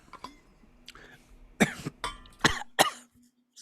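A person coughing several times in short, sharp bursts with a throat clear between them, close and fairly quiet, separated by brief silences.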